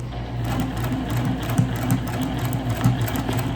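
A sewing machine runs steadily at close range, stitching fabric for a fabric tray in a continuous mechanical whir with small pulsing variations and no talking.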